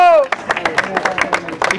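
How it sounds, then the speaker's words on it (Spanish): Crowd at a freestyle rap battle claps for the two competitors, a scattered run of individual claps in an uneven rhythm following a shouted voice, fairly close with background crowd murmur. "¡Aplauso, aplauso para los dos!"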